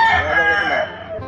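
A fighting rooster gives one loud, close crow that trails off, heard clearly with no talk over it.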